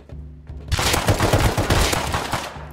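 Rapid automatic gunfire in the Rust video game erupts after a brief quiet moment, a loud, dense burst of shots rattling in quick succession for about two seconds before cutting off.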